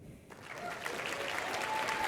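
An audience at a keynote talk bursts into clapping after a quiet instant, the applause building quickly and continuing steadily with some noise from the crowd.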